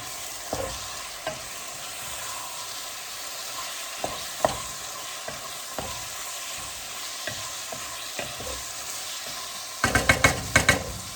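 Chili stirred in a frying pot after salt and pepper go in, a steady low sizzle with scattered spoon scrapes and knocks against the pot, then a quick burst of sharp metallic clinks near the end.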